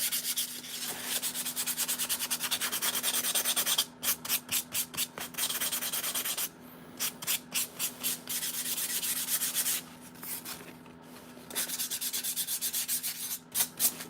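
Steady abrasive rubbing of sandpaper on a small carved wooden piece for a miniature urban diorama, with rhythmic back-and-forth bursts and brief pauses, close and continuous with no talk.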